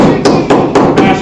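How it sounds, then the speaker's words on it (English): A hammer strikes a glass test tube in four sharp, evenly spaced hits, each a crisp close crack over a steady background, with no speech. "in one hand I have a hammer, in the other hand I have a test tube."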